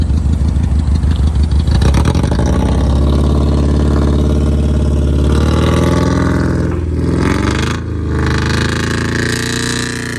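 A $1000 Honda Accord running a full straight-pipe exhaust revs hard and loud throughout, with a raw, raspy drone that rises and falls through the throttle blips, heard up close and alone.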